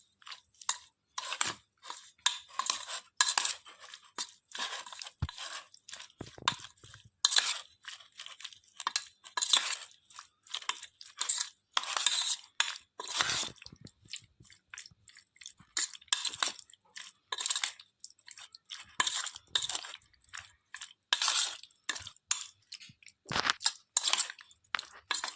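Prawns being tossed with chilli powder masala in a bowl for a Gujarati-style prawn masala, giving close, repeated wet squelches and crunchy clicks in an irregular rhythm, with no talking.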